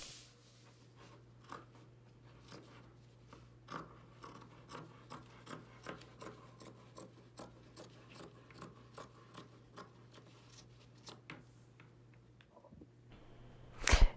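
Scissors cut through thrifted clothing fabric for a poncho: a steady series of soft, regular snips close by, evenly paced over several seconds with no talk.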